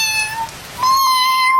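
An orange cat meowing loudly and close: two drawn-out tonal meows, the second rising and held longer, with no talk.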